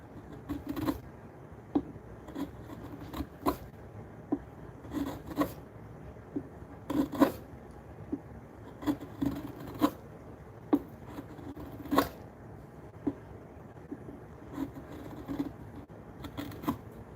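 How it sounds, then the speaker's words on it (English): Hand chisel cutting into wood, a series of short scraping, rasping strokes at an uneven pace, close and fairly quiet with no talking. "I feel like I'm getting a little aggressive with my chisel."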